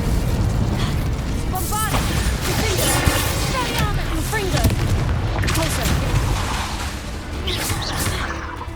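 Confringo fire-spell explosions in the video game Hogwarts Legacy during a North Coast battle arena fight, a dense, loud and continuous clamour of blasts, bursts and swooshing magic effects with no pauses.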